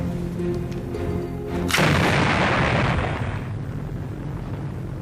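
A bomb blast from the failed plot against Hitler, set off in a room with a wooden map table: one sudden, heavy detonation over a low rumbling background, followed by a long, roaring decay.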